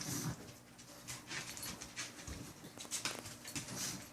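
A pug dog pants and whimpers close by in a room shared with a parrot, the quick breathy panting running steadily through the clip with small whiny cries, and no talking.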